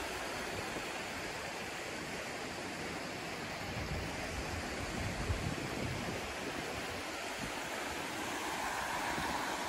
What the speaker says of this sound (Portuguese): Aqui, como pode ver, a água passou por cima da ponte.